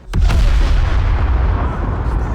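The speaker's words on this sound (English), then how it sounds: "So this is the cannon." A ship's cannon fires once in a naval video game, a loud sharp boom at the start that rolls into a long, heavy rumbling decay.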